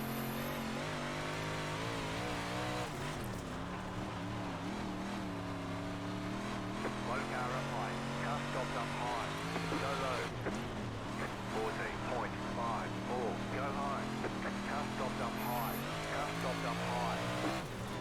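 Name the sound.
Big Block Modified race car engine in video game iRacing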